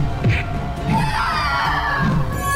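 A character screams in the Grand Chase video game, a couple of shrill, rising cries over busy game music and effects, fairly loud and close.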